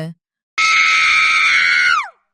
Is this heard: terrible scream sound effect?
yes